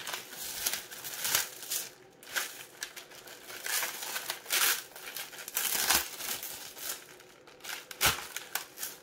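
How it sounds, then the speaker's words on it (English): Packaged Kringle Candle wax melts being unwrapped, with close, crisp crinkling and tearing of plastic wrap in irregular bursts, quiet and with no talking. "Let's unwrap this and try not to make a mess."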